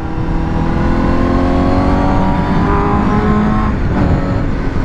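Honda CBR1000RR-R SP superbike engine revving just above 5000 rpm while riding, a loud, steady and continuous engine drone with a rising whine throughout, no talk.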